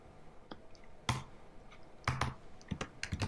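Typing on a computer keyboard while writing code comments, irregular clusters of sharp clicks up close with short pauses between bursts, no voices.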